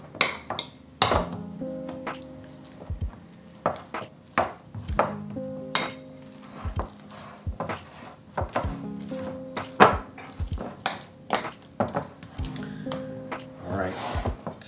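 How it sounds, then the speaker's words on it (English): Fork mashing broken banana pieces in a bowl, giving a run of clinking metal taps against the dish with soft squishy thuds in a steady irregular rhythm, close and moderately loud. "We're just going to take a fork and mash the bananas."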